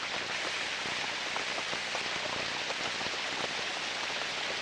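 Heavy rain pours down in a steady, dense downpour, a continuous close hiss of drops drumming on the ground with no voices.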